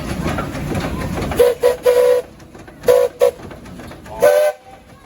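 Steam traction engine whistle at a steam and threshing show, a series of short sharp blasts in an uneven rhythm, ending with one longer toot, over a low engine rumble.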